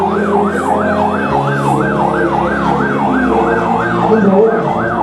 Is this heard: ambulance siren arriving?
yes